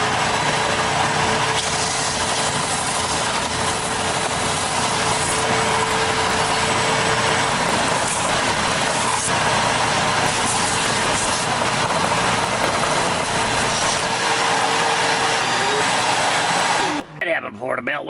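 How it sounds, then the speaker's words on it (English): Belt sanding machine in a workshop running loud and steady with a harsh broadband whir and a steady hum, then cutting off abruptly near the end, with voices partly heard under the noise. "let's get some sanding done."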